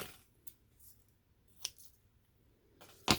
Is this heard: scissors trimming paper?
yes